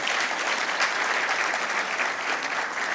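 An audience at a graduation ceremony claps steadily in a dense, even burst of applause, filling the room at constant loudness.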